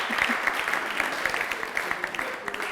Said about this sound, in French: applaudissez quand même un peu